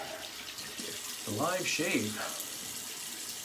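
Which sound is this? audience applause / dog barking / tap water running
tap water running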